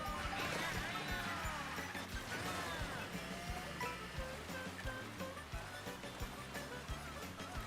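Steady rushing waterfall in a Pokémon video game, heard as a continuous broad wash of water noise that runs the whole clip beneath game music.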